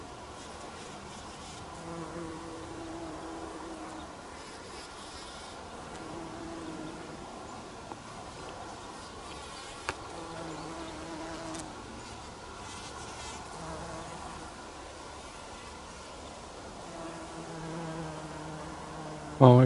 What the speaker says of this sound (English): Looks like we got a little bumblebee action right here.